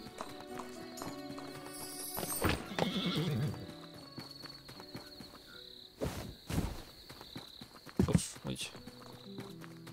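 Horse hooves clip-clop in the Tavern Manager Simulator video game, irregular clopping mixed with a whinny and crickets in the background, while a person talks over the scene.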